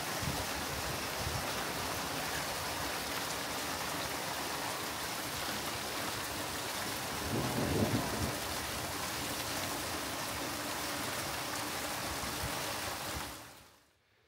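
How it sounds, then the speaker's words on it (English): Steady rainfall outdoors, a dense, even hiss of drops on surfaces lasting throughout, with no distinct thunder or hail impacts, briefly swelling midway before cutting off at the end. "So we had a nice little rainstorm yesterday with some hail"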